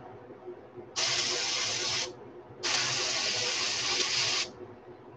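An airbrush sprays a paint texture around the gill plate area of a fishing lure in two steady hissing bursts, each about a second or more long, close and clear against a quiet room background.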